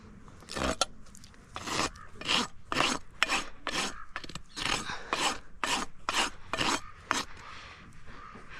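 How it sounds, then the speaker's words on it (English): A hand rasp filing a mini pony's hoof, giving a series of about a dozen dry, scratchy strokes in an even rhythm, close and fairly soft, with no talking. "with my rasp, it's all going to get smoothed out easy"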